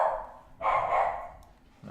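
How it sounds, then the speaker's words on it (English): A dog at home gives a short bark or two, close and fairly loud, with no one talking. "That's my dog."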